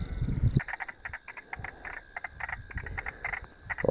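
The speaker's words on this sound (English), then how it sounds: "let's see what frogs we can find croaking" Frogs croak in a farm dam at night, a dense chorus of short, repeated pulsing calls overlapping steadily, fairly loud and close, with a brief low rumble at the start.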